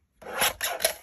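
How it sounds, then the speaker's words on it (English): Craft material being cut for a spring journal tag, heard up close as three quick rasping snips in a row, with no talking. "I think I'm going to cut it off right"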